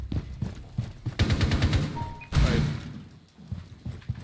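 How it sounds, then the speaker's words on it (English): Gunshots in the railHEX video game, a rapid burst of loud repeated shots followed by a heavy blast, then scattered thuds and a fading tail. "He just shot your own teammates."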